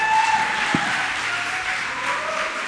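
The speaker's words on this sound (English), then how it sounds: "A round of applause," Audience applause at a community radio and performing arts summit, a fairly steady wash of clapping filling the room, with a brief thump partway through and no speech over it.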